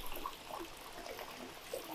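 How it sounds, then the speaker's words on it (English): Water from a valve runs and trickles steadily into a fish breeding vat, a soft continuous babbling with small gurgles, fairly quiet and close. "First thing I do is turn on the water."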